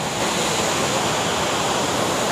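A large waterfall beside the Alappuzha to Munnar road in Kerala roars as a dense, unbroken rush of falling water, loud and continuous with no voices.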